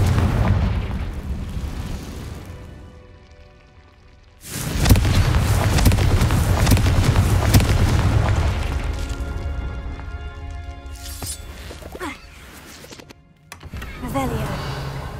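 Confringo fire spell explosions in Hogwarts Legacy come as a loud burst of booming blasts mixed with the game's sounds. Quieter effects follow, and a voice is heard at points.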